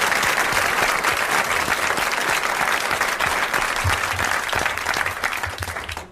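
A studio audience applauds a guest on a 1981 French television talk show, with sustained, dense clapping from many people at steady volume that thins slightly toward the end.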